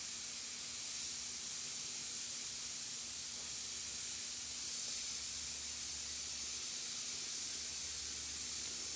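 An airbrush spraying red paint onto a baseball helmet gives off a steady, even hiss that runs unbroken throughout, close and moderately quiet, with a faint low hum beneath it.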